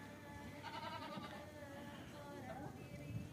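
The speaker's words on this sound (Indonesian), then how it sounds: "Kambing, kambing ikut ke kafe." A goat bleats at an outdoor cafe with a long wavering call, then a shorter one, over the low murmur of people chatting nearby.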